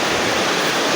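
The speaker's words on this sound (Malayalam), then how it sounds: "വെള്ളച്ചാട്ടം" Waterfall at Adimali, a dense, steady roar of rushing water filling a short one-second moment, loud and close with no voices.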